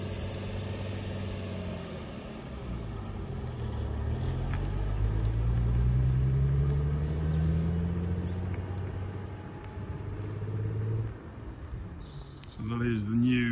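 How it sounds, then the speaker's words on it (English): A stunt car laps around a building, its engine rumbling steadily and rising and falling in pitch as it moves past at mid distance, fading slightly near the end as a brief voice is heard. "Jim, if you can just take it for a lap."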